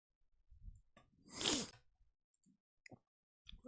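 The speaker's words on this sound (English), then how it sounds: "I sneezed." A single close, quiet sneeze bursts out after a brief intake of breath, with a few faint breaths and small clicks around it in an otherwise still room.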